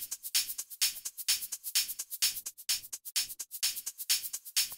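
A techno drum pattern processed with a crush return effect combining reverb and distortion, heard as steady, evenly spaced hissy hits with gritty, bright tails in a tight repeating rhythm.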